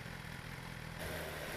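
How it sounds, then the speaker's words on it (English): Exhaust note of a BMW S1000R motorcycle, a low-mileage demo bike: a steady, close throbbing engine rumble that swells slightly in the final half second, with no talk over it. "Such a nice exhaust note."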